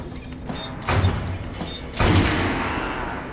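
Rifle volley gunfire in the video game Metro Last Light: two loud, sharp booming blasts about a second apart over a low ambient game background.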